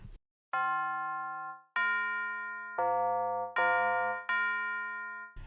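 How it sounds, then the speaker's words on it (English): A bell accent sound in a beat produced in Logic Pro X, five clear ringing bell hits, each sustaining and slowly fading, spaced unevenly and playing alone. "I already have the bell loaded here"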